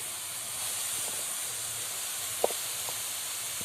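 A steady hiss of sizzling and steam rises from seekh kebabs in a hot pan, close and continuous, with a single sharp click partway through.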